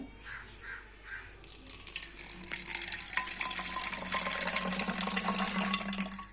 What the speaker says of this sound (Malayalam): ഞാൻ ഈ കുപ്പിയിലോട്ട് ഇത് ഒഴിച്ചു കൊടുക്കേനെ